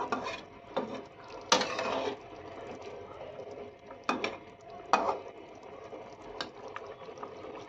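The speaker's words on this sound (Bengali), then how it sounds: "মশলাগুলোর সাথে মিশিয়ে নেব।" Fried potatoes being stirred into spices in a pan for chicken aloo curry, with irregular scraping and clattering strokes of the spoon over a soft sizzle, heard close and fairly quiet.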